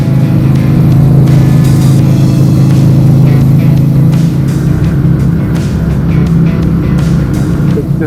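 A 1998 Buell S1 Lightning motorcycle engine rumbles loudly and continuously, a deep steady roar close by with no pauses or speech.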